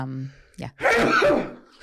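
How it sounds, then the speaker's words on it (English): A single loud, close sneeze bursts out after a short sharp intake of breath, with quiet voices just before and after. "I have to sneeze"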